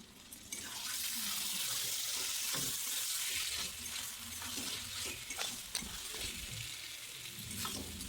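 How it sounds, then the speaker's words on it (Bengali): Ground cumin and chili paste being stirred into a mutton mince ghugni masala, a steady sizzle of oil with scraping spoon strokes against the pan, continuous and fairly close, with no one speaking. "এরপর জিরে আর লঙ্কাটা দিয়ে ভালো করে নাড়া দেব"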